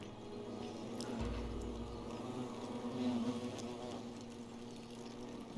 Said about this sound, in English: That sounds like flies or bees.